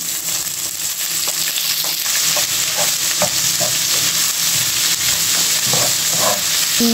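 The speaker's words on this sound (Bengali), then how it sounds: "গার্লিকটা লাল হয়ে গেছে, তো এখন অনিয়ন দিয়ে দিচ্ছেন" Onion tipped into garlic already browned in a hot pan, frying with a loud, steady sizzle and crackle, broken by scrapes and clinks of stirring, with no talk.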